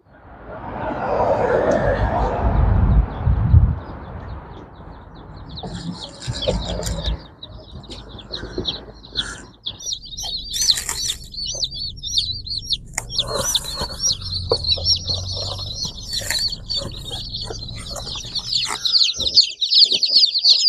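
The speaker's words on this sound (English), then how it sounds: "we have 26 chicks, and they're all doing well at this point." Novogen Brown egg-layer chicks, a batch of 26, peep in a dense, steady high chorus that grows continuous after a burst of rustling and handling noise at the start, with occasional soft thumps underneath.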